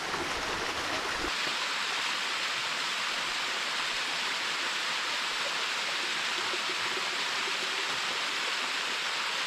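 A waterfall and stream in the Eskdale valley in the Lake District roar as a loud, constant rushing wash of water, close by and steady throughout.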